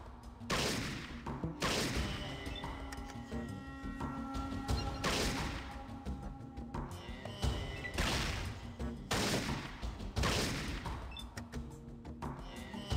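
Gunfire from the video game Fallout rings out in a string of loud, repeated shots, each one a sharp broadband crack. They come at an uneven rhythm over a busy combat background.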